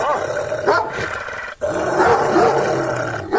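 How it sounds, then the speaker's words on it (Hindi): Tommy, a dog in an animated Hindi story, growls and barks in a rough, continuous rumble that breaks off once, close and loud. "टॉमी उन पर भौंकने लगता है।"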